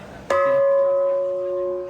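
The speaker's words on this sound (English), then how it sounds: "you got to ring the bell for the free koi" At a koi and goldfish show, a bell is struck once with a sharp clang, leaving a clear metallic ring that slowly fades over a couple of seconds.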